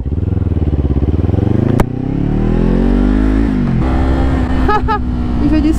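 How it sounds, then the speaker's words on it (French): A motorcycle passes close by in traffic, its engine revving and rising in pitch as it accelerates, with a clattering jolt partway through and a steadier drone afterward. "Ah, c'est une moto le truc."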